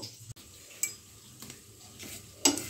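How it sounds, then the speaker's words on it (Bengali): Dry spices (cumin seeds, bay leaves, dried red chillies and coriander seeds) being stirred in a hot pan, with soft scraping and a few sharp clinks of a spatula against the pan, close and quiet. "এই মশলাটাকে ড্রাই রোস্ট করে নেব।"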